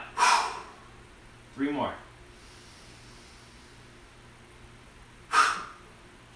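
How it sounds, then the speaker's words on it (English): Forceful breaths during a martial arts evening stretching routine: three sharp huffs, a loud exhale near the start, a gasping intake about a second later and another hard exhale near the end, close by, with a brief spoken count between them. "Breathe out hard. I don't care if it's your chest, your Dan Tien, just breathe with the whole diaphragm."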